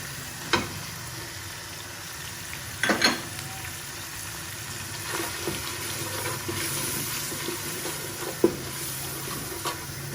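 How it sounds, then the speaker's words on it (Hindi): Chicken searing with spices in a pan for a turnip chicken curry makes a soft, continuous sizzle, with a few sharp stirring clatters and a brief watery hiss, heard up close with no speech. "चिकन को मैं भून रही हूँ।"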